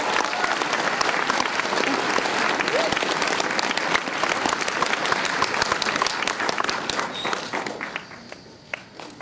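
A large audience at a state 4-H event applauds a speaker being called back to the stage, dense and loud clapping throughout with some cheering mixed in, thinning out near the end.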